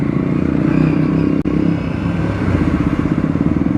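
Aprilia RS 457 motorcycle ridden off road, its engine throbbing loudly and steadily with rapid pulsing and clattering from the rough ground, close and continuous apart from one brief dropout.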